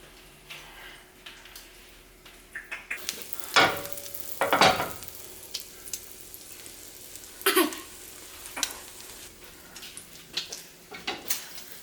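French toast, with egg and cinnamon on the bread, fries in melted butter in a pan, giving a faint, steady sizzle broken by louder scraping and stirring passes and light clicks of a utensil against the pan.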